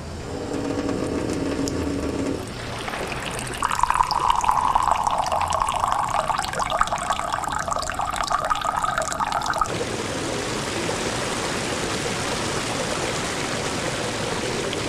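Water pours steadily into a drinking glass for several seconds, a close, bright trickling stream that starts abruptly and stops, with a quiet room before and after.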